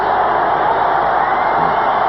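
Hockey arena crowd in Los Angeles rising and cheering in the final seconds of a Kings game against the Detroit Red Wings, a loud, continuous roar with no breaks.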